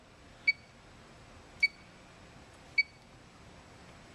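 Control panel buttons on a GPL Z9000 odorizer give four short electronic beeps, spaced about a second apart, each one crisp and close with nothing else in the background.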